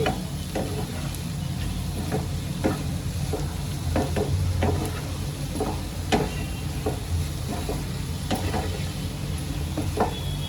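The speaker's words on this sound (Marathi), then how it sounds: "मसाल्यांबरोबर दोन मिनिटापर्यंत ह्याला चांगलं मी फ्राय करून घेते" Onions and spices sizzle in butter in a pan for paneer bhurji, a steady close fry punctuated by repeated scraping, tapping stirs at an uneven rhythm, with no talking.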